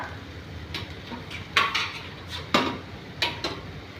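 Grated coconut is stirred into a pan of manathakkali (black nightshade) stir-fry, giving several sharp metallic scrapes and clinks of a spoon against the pan over a quiet kitchen background.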